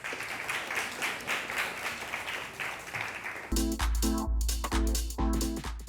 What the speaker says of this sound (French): On applaudit la rubrique, s'il vous plaît.